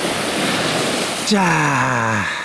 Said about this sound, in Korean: 바다 소리도 즐기면서 해볼랍니다